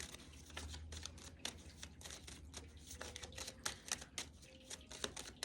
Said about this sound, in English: We'll just do a reshuffle.